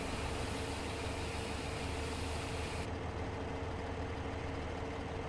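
A tractor engine idles in a farming video game, a faint steady low hum running evenly throughout with no speech.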